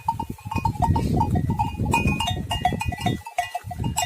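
Sheep bleat repeatedly and loudly nearby, several animals calling over one another with a bell clinking in the flock.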